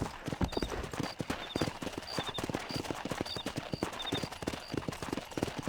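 Horse hooves gallop in quick steady clip-clop over ground in the Red Dead Redemption video game, loud and continuous, with faint jingling tack and distant game ambience.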